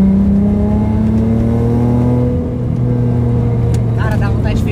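A Mazda with a V6 engine accelerates hard inside a tunnel, its loud, rising engine note booming and echoing continuously, with a voice talking over it near the end.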